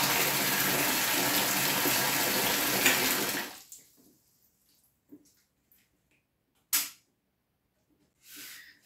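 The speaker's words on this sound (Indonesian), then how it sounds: "dua pemberat ini akan menarik dari otomatisnya untuk menyalakan pompa seperti ini" A small water pump fitted with an automatic float switch and two weights runs with a loud, steady rush of flowing water for a few seconds, then cuts off, leaving quiet with a few faint knocks and a short splash.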